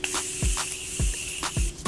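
Makeup setting spray mists onto a face in about four short, sharp hissing bursts, each followed by a low thump of the pump. The bursts are close and evenly spaced, with nobody speaking.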